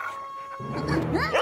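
A dog howls and whines in short rising and falling cries, fairly close, over a low rumbling background.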